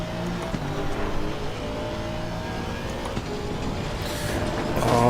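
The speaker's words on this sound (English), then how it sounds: "it's so great to have a car which has an engine that sounds like an engine, not a coffee grinder" A race car engine in Assetto Corsa Competizione on the Nordschleife runs as a steady, close, harmonic drone that swells into a louder rev near the end.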